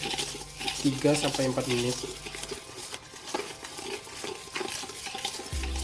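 Rainbow noodle mixture is stirred in a bowl with soft scraping and tapping strokes. The stirring is fairly faint and sits under a voice talking, with a brief tonal hum near the start.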